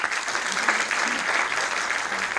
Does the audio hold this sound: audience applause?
yes